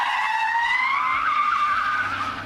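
Tires of an armored car squeal in a long, loud, rising skid through a J-turn, the screech carrying steadily for the whole stretch with no talk.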